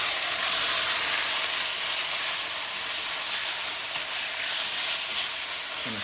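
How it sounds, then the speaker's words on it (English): Ostrich meat stir-frying in a preheated wok with oil gives a loud, continuous sizzling hiss that holds steady for several seconds with no talking. "gonna stir fry it."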